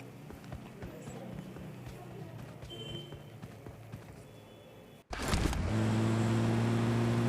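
A car in a battle-royale shooter starts up and drives off after a stretch of footsteps and movement, its engine settling into a steady, loud drone that runs to the end of the clip, with no talking.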